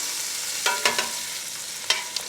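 Lemons sizzle in a hot pan as they are flipped to brown, giving a steady frying hiss with several short bursts of louder sputtering.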